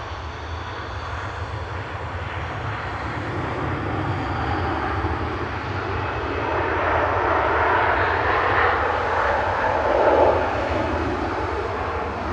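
A fixed-wing airliner passes at Manchester Airport, its engine roar building to a broad, steady rumble that swells and peaks before easing slightly, with no talk over it.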